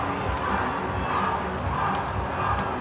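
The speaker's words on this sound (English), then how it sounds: "The crowd's responding to that one" Loud, steady roar of a stadium crowd at an NRLW women's rugby league match, Gold Coast Titans against North Queensland Cowboys, swelling in reaction to a hard tackle, with dense massed voices throughout.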